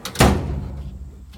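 A Snap-on 40-inch toolbox door shuts with one sharp, close metallic thud. A short ring and rattle follow as the sound fades out.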